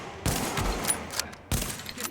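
Gunfire from a boss enemy in The Division, two loud bursts of rapid shots in a video game firefight, each cutting in sharply and trailing off.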